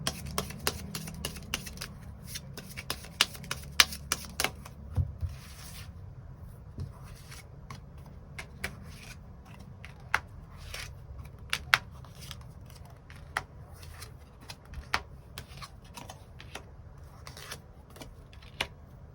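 Tarot cards being shuffled and drawn, a run of soft riffling at first, then scattered crisp clicks and taps as cards are laid down one by one, close and quiet over a low background hum.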